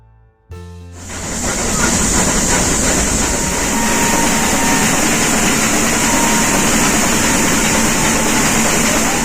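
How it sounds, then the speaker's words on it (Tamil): A diesel train's engine starts up after a brief quiet moment, then rumbles loudly and steadily nearby with a high whine on top. "இங்கே ட்ரெயின் கொஞ்சம் நேரம் நிற்கும், ஏன்னா டீசல் இன்ஜின் சேஞ்ச் பண்ணுவாங்க"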